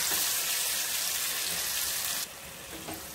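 Chana roasting in a pan for a dhaba-style chana fry, giving a steady broadband sizzle that drops noticeably in level near the end, with no voices.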